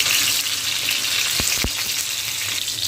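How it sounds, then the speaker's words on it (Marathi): Tomato fries in oil over a medium gas flame for green chili thecha, producing a steady close hiss and crackle with two brief low knocks near the middle. "चांगला टमॅटो आपण फ्राय करून घेऊया तेलामध्ये"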